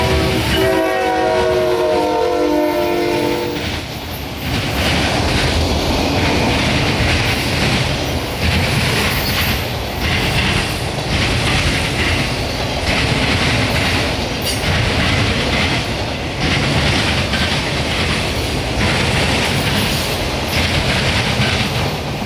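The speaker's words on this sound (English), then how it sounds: "CSX train K81129, an empty phosphate train running from Cicero" An empty CSX phosphate freight train passes close by. A loud horn blast opens the clip, then a sustained, heavy roar of rolling wagons continues with rhythmic clickety-clack over the rail joints.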